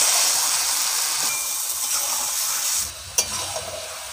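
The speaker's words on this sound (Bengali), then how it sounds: "মশলা তেল ছেড়ে দিয়েছে, এবারে আমি মাংস দিয়ে দেবো।" Chicken fries in spiced oil with a loud, steady sizzle that eases off near the end, interrupted by one sharp metallic clink.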